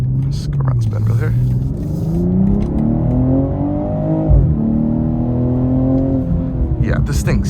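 A 2022 BMW M240i turbocharged inline-six accelerates hard on a POV drive. A loud, close engine drone climbs steadily in pitch, drops briefly at a shift, then rises again. A person talks over it.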